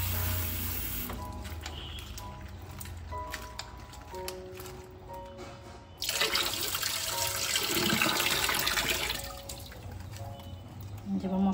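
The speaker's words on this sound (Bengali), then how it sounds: "এই কাঁচা লঙ্কা ভালো করে ধুয়ে নেব।" Green chillies are washed under a running kitchen tap, with a steady stream of water that swells and gets louder partway through, plus drips and splashes and some low background sound.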